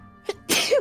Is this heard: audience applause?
no